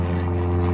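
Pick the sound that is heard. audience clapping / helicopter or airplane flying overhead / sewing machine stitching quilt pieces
helicopter or airplane flying overhead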